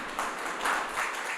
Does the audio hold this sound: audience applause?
yes